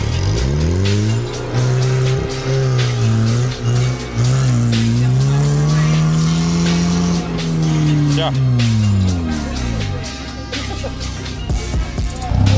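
A Chevrolet Niva's engine holds a loud, steady drone on an off-road track, its pitch swelling and sagging as the revs hunt up and down, with people talking over it.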